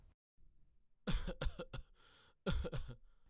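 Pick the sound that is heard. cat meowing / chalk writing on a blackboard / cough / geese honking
cough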